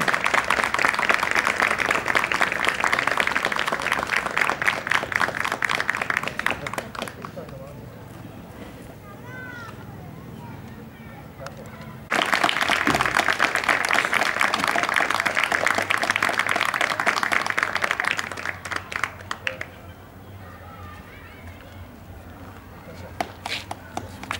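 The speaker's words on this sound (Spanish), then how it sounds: "Aplausos también para él." An audience applauds at a volunteer firefighters' day ceremony in La Cumbre, with two loud sustained bursts of clapping separated by a quieter stretch.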